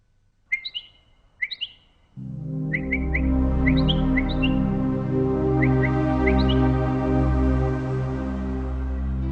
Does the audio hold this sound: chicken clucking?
no